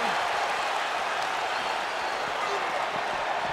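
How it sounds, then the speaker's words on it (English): Arena crowd applause in the WWE 2K23 wrestling video game, a dense, steady wash of clapping and crowd noise holding at an even level throughout. "The WWE Universe is showing their appreciation for the action they're seeing."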